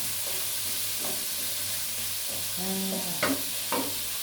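Food is stir-fried in a pan over a steady sizzling hiss, with a couple of sharp scrapes and clinks of a utensil against the pan toward the end.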